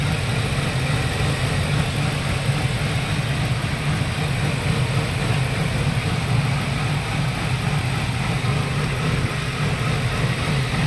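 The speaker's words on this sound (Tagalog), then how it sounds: "Kung mapapansin nyo, sobrang vibrate po ng kanyang makina" A Ford E150 van engine idles roughly with a misfire and heavy vibration, giving a steady, loud, close low rumble with an uneven churning texture and no talk.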